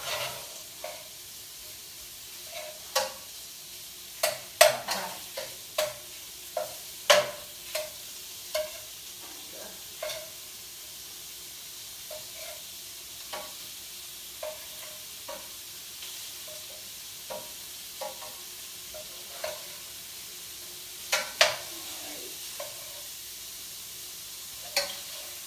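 Shrimp cooking in a pan, a soft steady sizzle broken by repeated sharp clicks and taps from stirring, spread unevenly across a long stretch.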